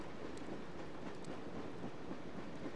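Steady rumbling of a passing train in the video game Dreamfall: The Longest Journey, a continuous broadband roar with faint rhythmic rattling throughout, moderately distant and without voices.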